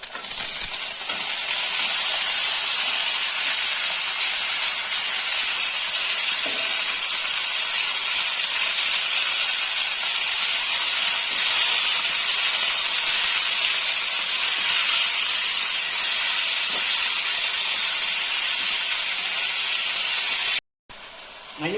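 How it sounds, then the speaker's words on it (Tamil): Coriander leaves sautéing lightly in a pan with golden-fried ingredients for a Tamil-style chutney, giving a steady, loud sizzle and hiss that runs almost unbroken throughout, with a short break near the end. "இப்போ இப்படி பச்சை மாறாமல் லேசாக வதக்கி விட்டுட்டா போதும்"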